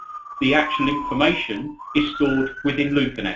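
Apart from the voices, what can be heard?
siren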